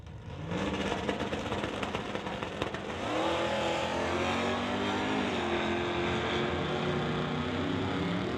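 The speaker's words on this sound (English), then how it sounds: "That sets up Chris Stone for Stone Cold Racing in the Dodge Dart to race Glenn Fillingham in the AMX" Drag race cars, a Dodge Dart and an AMX, launch and roar at an NHRA Summit ET bracket final, loud continuous engine noise with a rising rev climbing in pitch midway, no talking.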